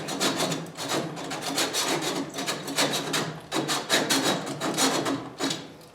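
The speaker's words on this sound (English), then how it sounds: "I'm just gonna use a hacksaw since I don't have that many to cut." A hacksaw saws through No. 2 service wire in steady back-and-forth strokes, each stroke a rasping burst, close and loud with no talking over it.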